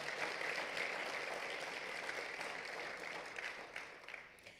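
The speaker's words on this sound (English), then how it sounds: "Please give yourself and your fellow graduates a round of applause." A graduation crowd at Circles Cobb gives sustained applause that is soft and distant, holding steady before slowly tapering off near the end.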